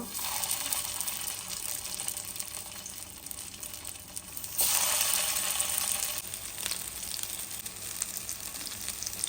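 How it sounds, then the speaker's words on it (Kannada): Beetroot tikki shallow frying in ghee in a pan, giving a steady close crackling sizzle with a brief louder hiss partway through. "ಇನ್ನು ಬೀಟ್ರೂಟ್ ಟಿಕ್ಕಿ ಶಾಲೋ ಫ್ರೈ ಮಾಡುವ."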